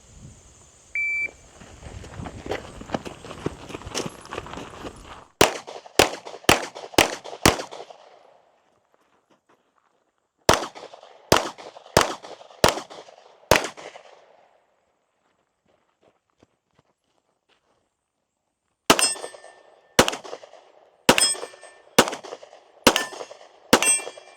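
Handgun shots at a shooting range fire in rapid strings of about five, each crack followed by a ringing clang from steel targets, with quiet gaps between strings and a beep from a shot timer at the start.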